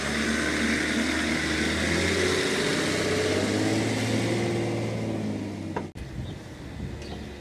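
Range Rover 4x4 drones loudly with steady engine and wheel-spin noise while pulling away off road, pitch holding level before a sharp thump near the end, then a quieter rumble.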